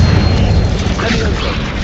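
An Incendio fire spell goes off in Hogwarts Legacy as a loud, dense booming burst of flame that roars steadily for about two seconds, close and full, with a voice present in the mix.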